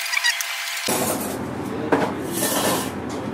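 A spoon stirs and scrapes in a dish while olive oil, Espelette pepper and fleur de sel are mixed, giving soft close rubbing and a light clink with no talking.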